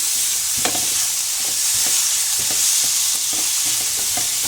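Ingredients for chicken vegetable spaghetti fry in a pan with a steady, close hiss. Light scrapes and clicks of stirring recur throughout.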